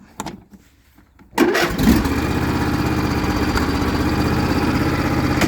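A John Deere L110 lawn tractor engine sits quiet for a moment, then cranks and catches with a sudden loud burst before settling into a steady, close, rumbling idle.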